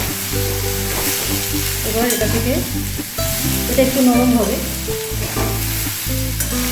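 Kochu loti (taro stolons) fry and sizzle in a pan, a steady hiss with occasional stirring scrapes while someone talks over it.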